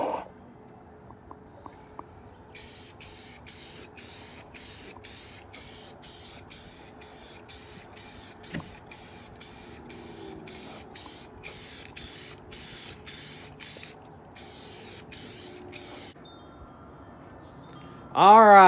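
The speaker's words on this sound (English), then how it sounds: "So I usually start off with a glossy spray." Gloss black spray paint hissing from a can in a long run of short bursts, evenly spaced and fairly close, with a brief pause near the end and a short loud rustle after it.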